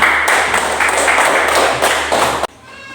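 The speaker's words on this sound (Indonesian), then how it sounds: "Lagi sekali tepuk tangannya." An audience claps together after a group presentation in a classroom, a loud, dense round of hand claps with a few sharper accents, stopping abruptly near the end.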